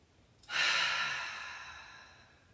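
A single deep cleansing breath is exhaled during a full moon yoga session, rising suddenly into a long, soft, airy rush that slowly fades, close and quiet with no talking.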